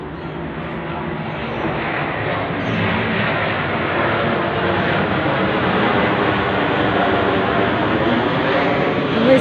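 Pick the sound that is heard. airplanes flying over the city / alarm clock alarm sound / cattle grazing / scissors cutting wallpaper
airplanes flying over the city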